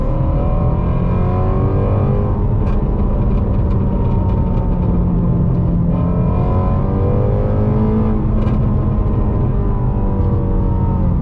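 A Ford GT350 revs hard in a garage, its loud engine note rising and falling while the exhaust crackles with rapid backfire pops on the decel.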